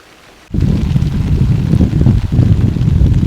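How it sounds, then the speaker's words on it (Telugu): Heavy rain pours down at a night campsite, starting suddenly after a brief quiet moment and then roaring close and loud as a steady dense downpour with some wind buffeting the microphone. "అంతలా కురిసేస్తుంది. అటే పక్కన లాగేస్తారా, వచ్చేస్తుంది వాన, వచ్చేస్తుంది మళ్ళీ వాన"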